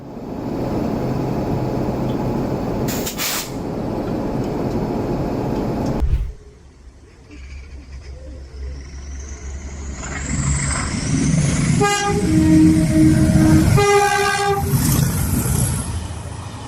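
Heavy rail cars rumble and clank as they are pushed together for manual coupling, a loud mechanical roar broken by a sharp cut, then grinding and a sustained tonal squeal or horn near the end.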